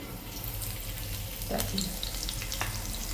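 Garlic frying in hot oil in a pan for a dry tomato bhaji, giving a steady close hiss with a faint watery, tap-like sizzle throughout and no voices.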